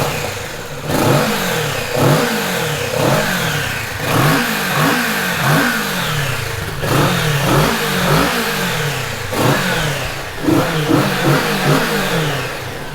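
A Kawasaki Z650 RS motorcycle engine is revved again and again, each loud blip rising and falling in a quick repeating rhythm over about thirteen seconds, close and with no voices.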